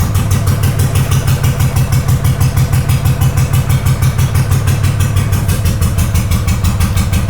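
An old Honda GL500 motorcycle engine being revived for a cafe racer build, idling loud and close with a steady, even lumpy throb and mechanical clatter.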